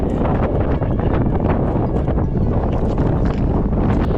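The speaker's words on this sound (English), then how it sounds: "It's getting windy." Strong wind on a mountain traverse in the Four Peaks buffets the microphone with a steady, loud low roar and rumbling gusts throughout, no voices present.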